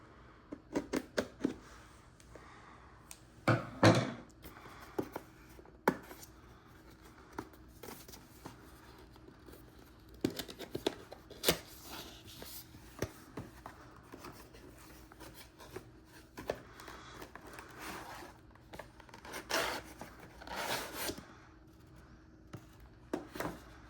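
Scissors snipping and rubbing through Nintendo Switch 2 box packaging, quiet close rustles and scrapes in scattered bursts with a few sharper cuts, no talking.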